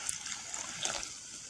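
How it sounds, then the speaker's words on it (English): Liquid gently poured into a mixture for a homemade air freshener, a soft continuous trickle heard close up and alone. "Gently pour"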